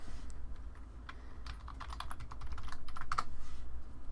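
Typing a terminal command on a computer keyboard: a quick run of close, crisp key clicks in an uneven rhythm, with no speech.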